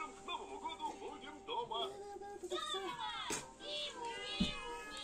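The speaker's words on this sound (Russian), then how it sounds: "Кота выпустите" A house cat in a village kitchen meows repeatedly in rising, drawn-out calls, close and fairly clear, mixed with someone talking nearby.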